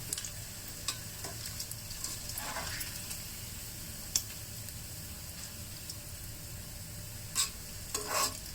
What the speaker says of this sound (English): We leave the oil to cook the mushroom.